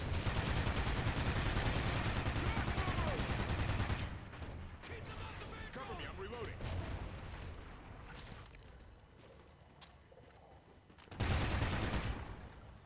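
Gunfire from regular weapons fired at aliens in Call of Duty Ghosts Extinction: Awakening, a loud dense fusillade of rapid shots for about four seconds, then quieter scattered action sounds, and a second heavy burst near the end.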